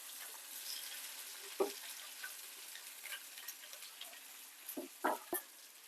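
An egg frying in a pan for an egg chutney makes a soft, steady sizzling hiss throughout, broken by a few sharp clicks and taps near the end; no one talks.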